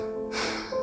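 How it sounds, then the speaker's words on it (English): A person blows their nose in one short, close, breathy honk lasting under a second, with no speech. "I need to blow my nose, you heard that."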